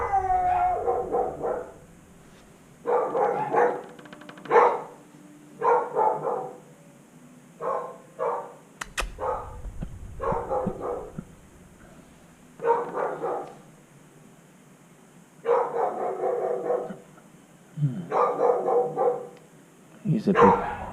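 A large young dog barks repeatedly, the barks arriving in uneven bursts with short gaps, loud and close, with a few yips and howl-like notes.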